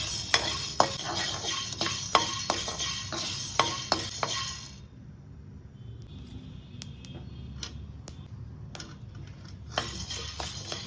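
Black peppercorns dry-roasting in a pan over half flame for rasam powder: a busy run of rattling, scraping stirs and light clinks up close, then a quieter stretch with a few sparse taps before the stirring picks up again.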